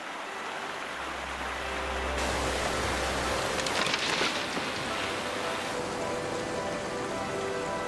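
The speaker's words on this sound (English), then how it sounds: "The heavy rains inland bring the largest flash flood in a decade." Heavy rain pours down in the Namib desert, a dense, steady hiss of drops hitting the ground with a low rumble underneath for the first few seconds, continuous and close.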